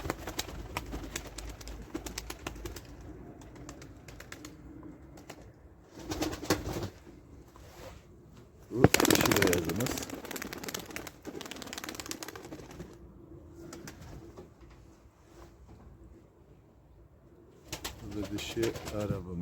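Tumbler pigeons cooing in a loft, soft repeated coos close by with a burst of wing flapping midway and scattered clicks and rustles throughout.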